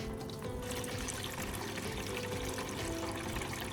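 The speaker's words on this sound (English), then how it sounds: "I'm draining out the final rinse water." Steady close rush of rinse water pouring and draining out of a car battery, continuous and even throughout, with no voices.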